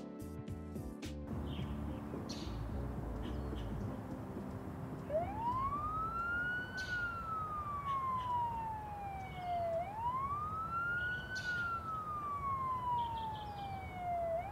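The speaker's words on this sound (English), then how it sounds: "Police sirens ring throughout the streets of Newark and Elizabeth" A police siren wails in the distance, rising and falling in slow sweeps over a steady rumble of traffic.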